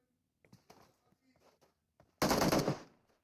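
Gunfire in the video game PUBG Mobile erupts as a loud, rapid burst of automatic shots lasting about half a second, following quiet scattered in-game sounds and soft background noise.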